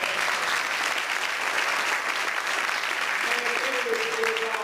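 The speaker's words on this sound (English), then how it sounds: "Let's give him another round of applause" Sustained round of applause from an audience at a community forum, steady and dense throughout, with a faint voice or tone emerging near the end.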